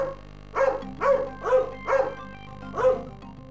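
A dog barks five times in a regular rhythm, clear and close, each bark short and sharp over a faint steady hum.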